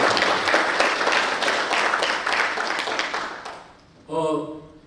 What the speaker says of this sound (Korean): 격려의 박수를 한번 좀 보내주시기 바랍니다.